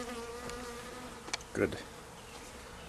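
A honey bee swarm buzzing near a hive box during a swarm collection in Rochester, NY, a steady insect drone with a brief louder swell as bees pass close, and a short spoken word in the background.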